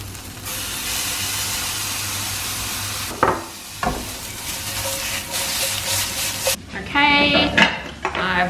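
Salsa mixture stirred into nearly cooked scrambled tofu in a pan, with a steady close sizzle and hiss, then scraping and clinks of a utensil against the pan partway through.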